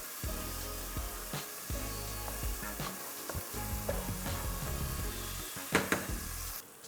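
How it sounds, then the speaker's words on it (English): Ingredients for Nigerian concoction rice fry and sizzle steadily in a pot, with stirring clatter and scraping throughout and no talk. "So I'll fry this for another maybe 5 to 7 minutes"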